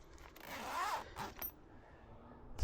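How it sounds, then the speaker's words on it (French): A double zipper on a NightCat tent being drawn open from inside during a rainy night of camping, one steady rasping pull lasting about a second, followed by quieter fumbling and a soft thump at the end. "Parce qu'évidemment, c'est double fermeture éclair, intérieur, extérieur."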